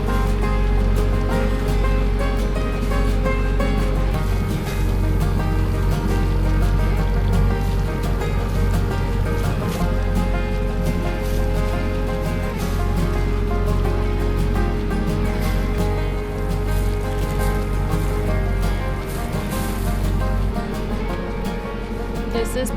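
A sailboat motors over calm water with no wind, a steady low engine drone blended with continuous rushing water and hull wash, loud and close throughout.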